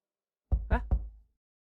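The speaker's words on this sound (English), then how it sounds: "The knock awakens you with a start, disturbing your deep sleep and washing away any lingering images." Three quick, hollow knocks on a hotel room door in the game Love and Fool's Gold, loud and close, each thud ringing briefly before fading, with no talk over them.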